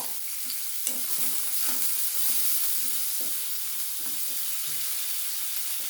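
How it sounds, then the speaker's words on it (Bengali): Chopped onions with a little salt fry in a pan, making a soft, continuous sizzle broken by a regular run of stirring scrapes, without any talk. "সামান্য একটু লবণ দিয়ে পেঁয়াজগুলো আমি ভেজে নেব।"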